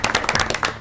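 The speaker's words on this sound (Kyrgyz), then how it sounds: "Кол чабуулар." Brief audience applause at a televised team quiz contest, a quick burst of several sharp claps close together in under a second.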